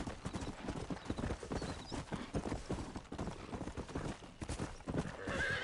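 Rapid hoofbeats clatter continuously as a horse gallops in the video game Red Dead Redemption, with a whinny rising near the end, dense and fairly loud throughout.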